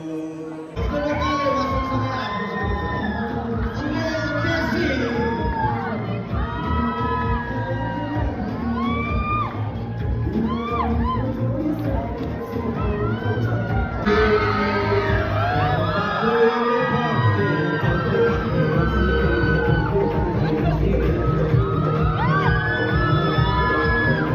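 A large crowd at a live event cheers, whoops and shouts continuously, a dense roar of many voices with individual yells rising above it, close and loud throughout.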